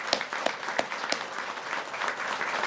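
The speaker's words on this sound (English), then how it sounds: "So let's give a round of applause to our federal friends." A crowd at a fire rescue truck commissioning gives a round of applause. Several sharp, distinct claps stand out early, then the clapping settles into a fuller, steady patter.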